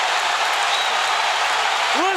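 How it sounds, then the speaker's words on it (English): A large boxing crowd roars and applauds in a dense, continuous wash of noise during the fifth round of Terence Crawford vs Yuriorkis Gamboa, loud and sustained from start to finish. "Listen to the crowd."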